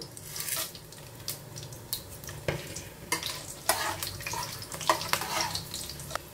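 Whole cloves, peppercorns, cinnamon and cardamom hit a pan in a Kolkata-style chicken rezala recipe, giving a steady close sizzle with scattered crackles and stirring scrapes, no talk.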